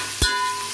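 Vegetables for mushroom biryani being stirred and fried in a pan: one quick scrape of the stirring spoon over a low, steady sizzle, with a second faint scrape at the end.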